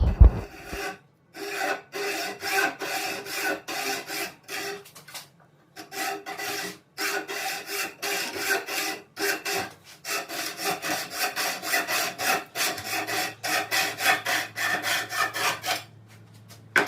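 Hand-sawing through a metal guitar truss rod cut to 18.5 inches, a close rhythmic rasp of back-and-forth strokes with brief pauses, continuing steadily for many strokes.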